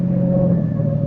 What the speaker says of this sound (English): But I drove Alan Carlin's car like a reckless idiot, taking every curve as if it was a race course.